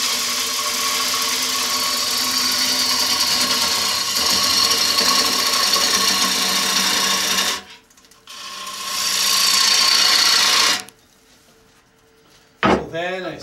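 A gouge cuts a wooden bowl spinning on an electric lathe, giving a loud, steady, rushing shave over a motor hum that stops briefly, resumes, then fades, followed by a couple of knocks.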